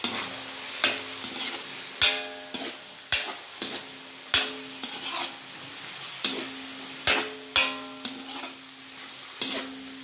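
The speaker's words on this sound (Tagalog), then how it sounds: "Chicken liver. Tapos ating haluin guys." Chicken liver sizzles in a pan for pansit bihon while a utensil stirs it, giving a dozen or so sharp scraping knocks in an uneven rhythm over a constant frying hiss, close and clear.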